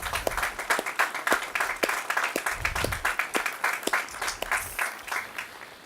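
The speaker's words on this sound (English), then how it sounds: "let's give them a great big round of applause" Outdoor crowd applauding at the dedication of a relocated Highway 53 bridge, a mix of hand claps with sharper individual claps standing out, moderately loud, with a little wind rumble and no speech.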